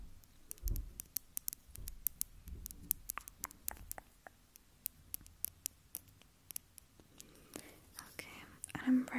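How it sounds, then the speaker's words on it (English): Rapid, sharp, high-pitched ASMR tapping clicks up close, irregular and fairly quiet over faint whispering and light background rustle. "high-pitched tapping sounds like this."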